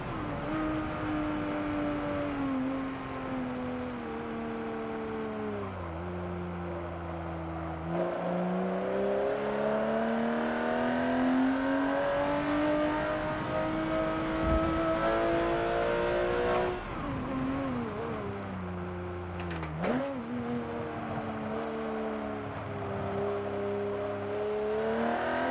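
A flat-six Porsche race car engine in Forza Motorsport 7 revs continuously to around 8,000 rpm, its pitch rising and falling through gear changes, loud and steady with no talking.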